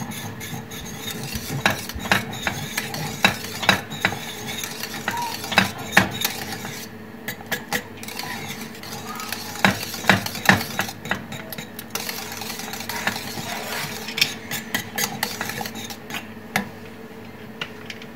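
Repeated metallic scraping and clinking of a utensil stirring a cream mixture with vanillin in a pot, steady and rhythmic with occasional sharper knocks, close up.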